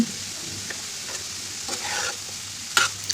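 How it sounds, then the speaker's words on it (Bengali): Sliced snake gourd frying in a pan and being stirred, a steady close sizzle with scraping strokes of the spatula against the pan. "আবার একটু নেড়ে চেড়ে"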